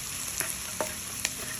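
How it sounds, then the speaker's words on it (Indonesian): Shallots, garlic, ginger and chili frying in oil in a pan, a steady loud sizzle with a few light stirring scrapes. "mau goreng bawang merah, bawang putih, jahe dan cabenya ya"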